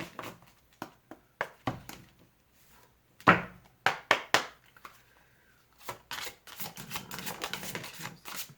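A tarot card deck is shuffled close by in short bursts of crisp riffling and slapping, separated by brief quiet gaps, then a longer stretch of continuous card rustling.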